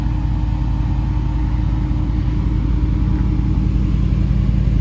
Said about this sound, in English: Hear that throaty exhaust idling.